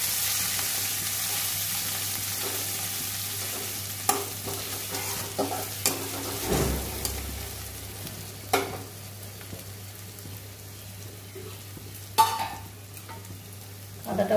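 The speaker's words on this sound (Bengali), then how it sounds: "আদাটা ভাজা হয়ে গেছে" Grated ginger and whole cumin seeds fry in hot oil, a continuous sizzle with intermittent scrapes and clinks as a spoon stirs the pan, close up with no voices.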